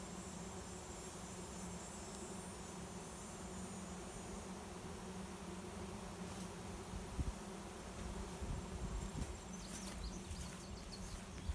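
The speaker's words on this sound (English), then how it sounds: "It is a massive swarm of bees." A massive swarm of honey bees gathers into a swarm box, making a steady, low, droning buzz that stays even and fairly faint throughout, with no voices.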